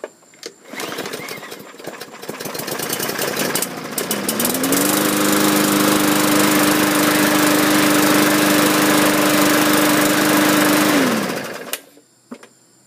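Troy-Bilt self-propelled lawn mower from 2012, with a damaged cutting deck, starts up and runs steadily at a loud, close, droning idle for several seconds before shutting off, with a few clanks around it.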